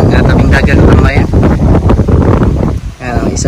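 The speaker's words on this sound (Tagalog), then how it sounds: "Sarap na hangin dito sa tabing dagat ng bayan." Strong seaside wind at a town's shoreline buffets the microphone in loud gusting rumbles, nearly continuous with brief dips, while someone speaks over it.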